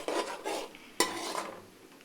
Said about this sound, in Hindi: गार्लिक जिंजर का पेस्ट डाल दिया है। इसे थोड़ा सा फ्राई कर लेंगे।